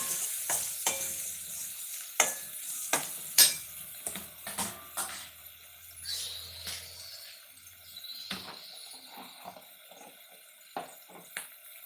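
Onions sautéing in a pan for biryani, a soft steady sizzle broken by repeated scrapes and clinks of a spoon stirring against the metal, close and fairly quiet with no talking.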